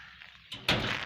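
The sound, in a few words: door being closed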